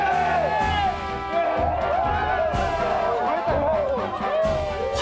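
Soldiers finishing an army march cheer and shout in a loud, close group, with overlapping voices, whoops and chanting rising and falling in bursts.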